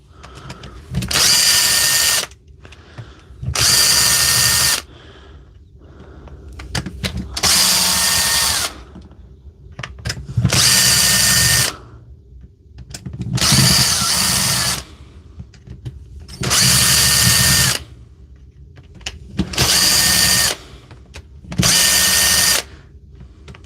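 Dewalt power drill whirring in eight loud, even bursts of about two seconds each, separated by brief pauses, driving screws and binding up as it jams, with a low background hum between bursts and no talking.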